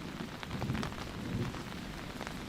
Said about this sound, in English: It's raining, folks. It just started.